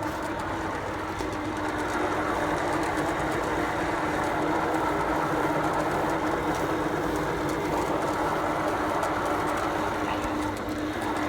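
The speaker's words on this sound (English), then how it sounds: "of course I'm filling this feeder wagon right now of corn silage" A silo unloader on a cattle farm drops corn silage into a feeder wagon, producing a steady, loud mechanical roar with a low hum that runs unbroken throughout, with no voices.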